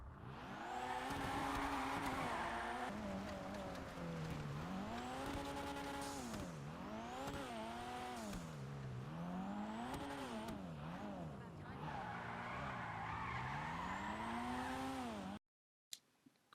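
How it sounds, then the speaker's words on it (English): Jester Classic car in a video game power sliding, its engine revving up and down in loud, continuous swells with tire squeal through the slide, cutting to near silence at the very end. "It can totally go around the corner, but it's actually just power sliding."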